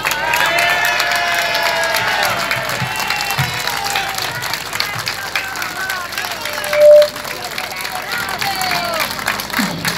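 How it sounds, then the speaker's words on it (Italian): A large crowd at an Italian political rally in April 2021 gives sustained applause and cheering to welcome General Antonio Pappalardo, with dense clapping and raised voices over roughly ten seconds and a loud shout partway through. "lo accoglierete con un grande applauso"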